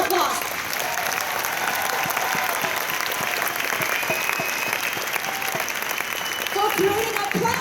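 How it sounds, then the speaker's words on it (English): Audience applause at a large convention hall, a dense, steady wash of clapping from many hands that holds at an even level throughout, with no speech over it. "let's give them another big round of applause"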